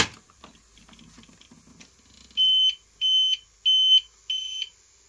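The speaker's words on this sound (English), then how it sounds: "Let me also show you briefly how the power cut notifications work." A home data centre's power-cut notification alarm sounds four evenly spaced, sharp electronic beeps after a quiet stretch of faint background rustling.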